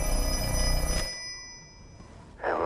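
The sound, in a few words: telephone ringing in the Black Phone 2 trailer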